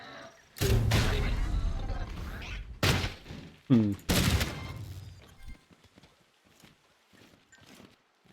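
Heavy booming blasts from the Spud Shotgun in Scrap Mechanic, four or five loud shots spaced a second or so apart, each with a rumbling tail, followed by quieter scattered sounds.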